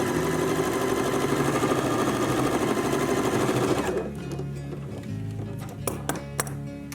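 A sewing machine runs steadily for about four seconds hemming the long edge of a felt piece, then stops, leaving a quieter hum with a few light clinks near the end.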